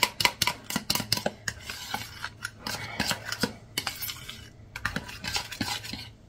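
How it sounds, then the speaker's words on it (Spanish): A fork whisks flourless, sugar-free sponge cake batter in a bowl, making quick, uneven clinks and scrapes against the sides in a busy rhythm, close by and with no voices. "Pues seguimos con el tenedor. Lo mezclamos bien."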